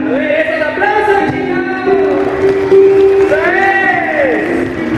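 A crowd at an erotic festival in Tlalnepantla cheers and whoops, with applause blending into the noise. Someone shouts excitedly over the top, his voice carrying loudly above the crowd throughout.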